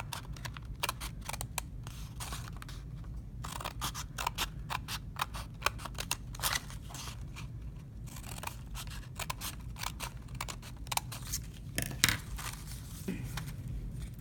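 Scissors snip paper strips in a quick, irregular series of crisp close cuts, many sharp clicks spread across the whole stretch in a quiet room.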